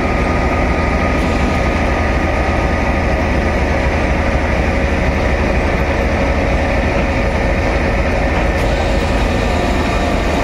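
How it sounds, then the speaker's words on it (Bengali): A stone-loaded freight train rolling slowly toward the Nashipur rail bridge on the Azimganj side makes a loud, continuous low rumble and wheel roar that holds steady from start to finish, heard close and with no voices. "নসিপুর রেল ব্রিজের আজিমগঞ্জ সাইড পাথর ভর্তি মালগাড়ি আনলোডিং এই মুহূর্তে নসিপুর রেল ব্রিজের দিকে যাচ্ছে ধীরে ধীরে"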